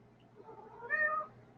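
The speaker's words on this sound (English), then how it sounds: "my cat's joining us too" A house cat gives a single short meow, fairly faint over a quiet room hum, rising briefly and then fading out.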